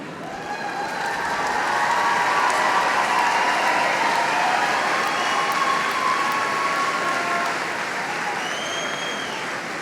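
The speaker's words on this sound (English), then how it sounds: "Another round of applause for them." Crowd at a high school graduation ceremony applauding magna cum laude graduates: a sustained, even wash of many hands clapping, loud and steady for the whole stretch, with a faint whistle or squeak near the end.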